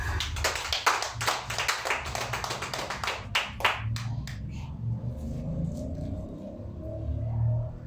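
A church congregation claps together in a steady, dense burst that gradually thins out, leaving a low rumble of the room and faint murmuring afterward.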